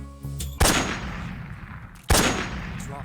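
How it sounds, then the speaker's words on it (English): Two sharp, loud sniper rifle shots ring out in a video game boss fight, each a sudden crack followed by a decaying echo, about one and a half seconds apart. "Grab your sniper rifle, aim, and fire."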